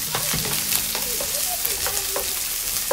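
Garlic and onion sautéing in a hot pan, a close, steady sizzle broken by scraping stirs and clinks of a utensil, with no talk.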